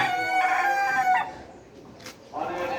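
A rooster of a Pakistani breed, kept with chickens on a rooftop, crows loudly and close for about a second, followed by quieter clucks and scattered background noise.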